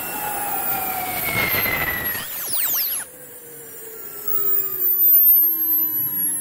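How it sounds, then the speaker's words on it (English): A gas-turbine N2 spool driving its own turbo alternator runs at very high RPM: a loud whining turbine with rising and falling high tones, a sharp sweeping shift midway, then a steadier roar with tonal whine. "N2 spool running as its own turbo alternator"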